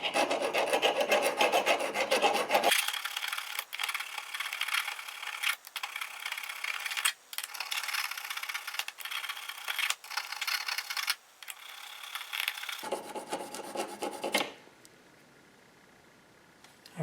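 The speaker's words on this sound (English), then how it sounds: "as you can see now we filed it down" Metal file rasping back and forth on a storm door latch part in a garage, steady close strokes for about fourteen seconds with brief pauses, then stopping into quiet.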